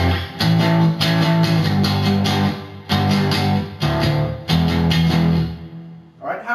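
Electric guitar plays the bridge of a song, a run of loud, full strummed chords in steady bursts with brief breaks, ringing out alone before fading near the end.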